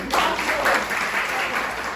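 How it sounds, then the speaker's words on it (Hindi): Audience applause at a community poetry gathering honoring a ward councilor, a short burst of steady, moderately loud clapping from a seated crowd, with faint voices underneath. "तो बहुत सारी तालियां"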